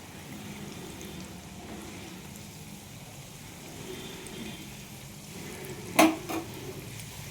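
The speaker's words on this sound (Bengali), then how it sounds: "এইভাবেই ভাজতে হয় বন্ধুরা।" Lentil fritters made with prawn heads fry in hot oil with a low, steady sizzle, and a couple of sharp clinks from a utensil against the pan sound near the end.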